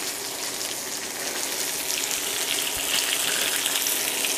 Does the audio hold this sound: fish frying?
yes